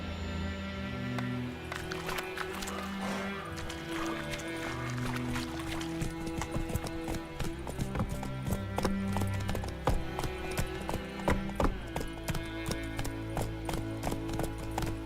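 A horse gallops in The Witcher 3, its hooves clip-clopping in a steady, fast rhythm close by, the beats growing louder and sharper toward the end over a continuous bed of game music.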